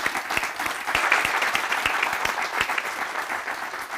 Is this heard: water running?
no